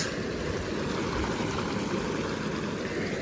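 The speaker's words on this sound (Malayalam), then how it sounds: "ജക്കൂസി ഓണാണ്" A running jacuzzi, its bubbling, churning water making a steady, broadband rushing noise that stays constant throughout and is heard close by.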